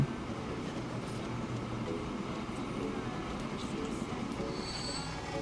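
Trains in a transport tycoon video game roll along the tracks, giving a steady rumbling clatter with a faint wheel squeal near the end, continuous and moderately loud for about five seconds.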